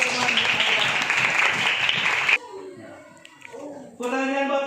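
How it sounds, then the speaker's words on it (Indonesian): A group of children applauding in a school classroom, loud dense clapping that stops abruptly partway through, followed by an adult speaking and then children's voices answering together. "Berikan tepuk tangan buat teman-teman."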